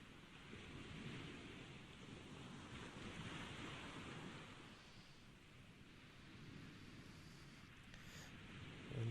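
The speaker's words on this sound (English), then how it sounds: "the ocean has become somewhat calmer. The waves are not as big" Ocean waves wash around a sailboat at sea in the video game GTA 5, a soft, steady surf and wind hiss, faint and continuous with gentle swells and no talk.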